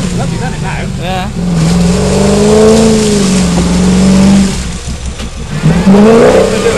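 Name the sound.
Land Rover Defender V8 engine revving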